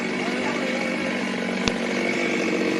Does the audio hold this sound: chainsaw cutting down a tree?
yes